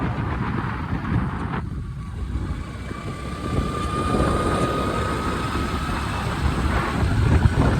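Steady broadband engine roar from an aircraft on the Port Blair airport runway fills the whole stretch, loud and continuous with a faint tonal whine, and no voices over it.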